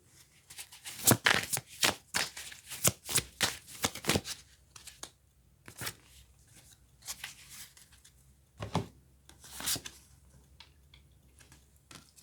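A deck of tarot cards is shuffled by hand at close range, with quick flurries of crisp riffling and slapping bursts, then pauses and a few softer, scattered card sounds.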